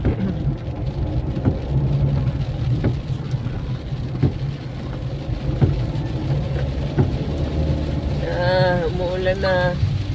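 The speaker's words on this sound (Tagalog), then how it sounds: "Umuulan na." Steady rain pattering on a car during a road trip in the Philippines, a constant hiss with road rumble underneath and occasional sharper drop taps, while people talk quietly inside the vehicle.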